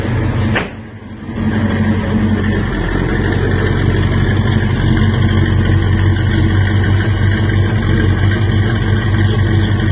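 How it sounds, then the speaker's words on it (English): A cammed 454 big-block Chevrolet V8 in a 1977 K5 Blazer idles rough and lumpy, rumbling loud and steady through a Flowmaster exhaust, after a short sharp knock and dip at the start. "Go out and check out that Flowmaster exhaust."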